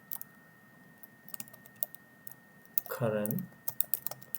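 Computer keyboard being typed on to enter a tag name in software, sparse light clicks spread across the clip, with one spoken word in the middle.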